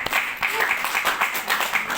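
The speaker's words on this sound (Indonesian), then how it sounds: "Tepukan untuk MRT kita." Clapping from an audience at a product testimonial event, with a quick run of rhythmic claps over a noisy room and some talk mixed in.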